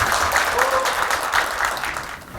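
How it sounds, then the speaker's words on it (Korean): Steady, dense applause from the audience opening a civil servants' union general strike 20th-anniversary debate forum at the National Assembly, a continuous loud clapping wash lasting the whole moment. "토론회를 힘찬 박수로 시작하겠습니다."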